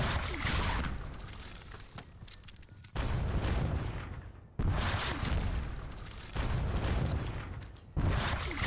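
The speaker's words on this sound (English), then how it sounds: "So let us get the artillery fire softening him up a bit." Repeated heavy booms of artillery fire from a Seven Years War battle video game depicting the Battle of Zorndorf, several loud blasts in sequence, each with a long rumbling decay before the next.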